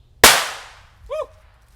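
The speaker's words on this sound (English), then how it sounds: "I did the last two by themselves because I didn't want one to blow and it throw the firecracker towards us." A single firecracker explodes in one sharp, loud bang outdoors on the Fourth of July, its crack decaying over half a second, followed by a brief voiced exclamation.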